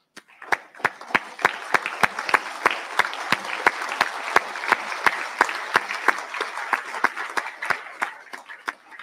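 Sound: audience applause for graduates

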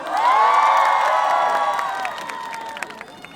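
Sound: audience applause and cheering

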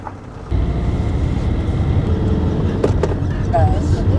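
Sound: camper van driving away

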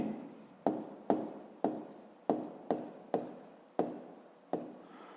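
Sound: writing

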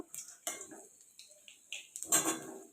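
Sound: stirring tempering spices in pan

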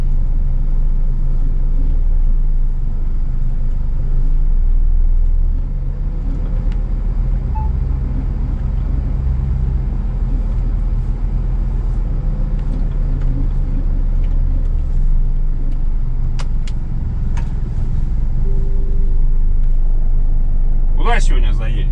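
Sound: truck driving on the road during a test drive

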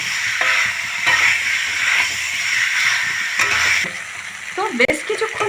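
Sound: boiled potatoes sautéing with spice masala in a pan

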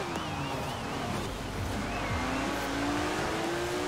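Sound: Porsche GT3 RS engine in video game Forza Horizon 4

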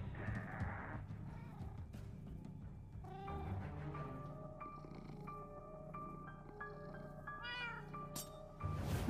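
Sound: cat meowing in the video game Minecraft: Story Mode

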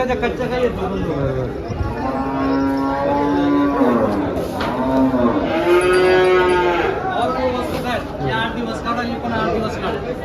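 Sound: cows mooing at cattle market

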